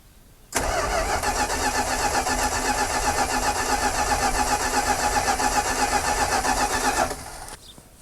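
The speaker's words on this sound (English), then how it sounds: "I'm gonna give it a crank and just see if we can get any fuel pulling up." A long-dormant Dodge Power Wagon engine cranking on the starter without catching, a loud, steady, rapid churning for about six and a half seconds that then stops abruptly, close up.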